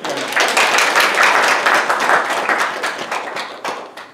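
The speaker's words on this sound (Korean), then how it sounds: "박수" A church congregation claps during a Sunday sermon, a brisk burst of close, lively applause that swells early, then gradually thins to scattered claps.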